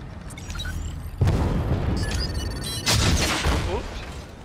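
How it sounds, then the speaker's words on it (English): A gas tank explodes in the game Fortnite, giving two deep, rumbling booms about a second and a half apart over steady game noise, with someone talking throughout. "He blew up the gas tank."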